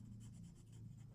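A pencil held in a light, loose grip drags across paper while drawing, giving a soft, continuous scratchy rasp of quick strokes, close and quiet.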